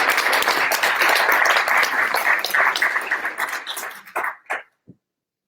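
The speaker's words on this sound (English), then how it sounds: "One more round of applause for Dr." An audience applauds a doctor at a sarcoma conference, steady dense clapping from a sizeable crowd that thins out and ends in a few last scattered claps.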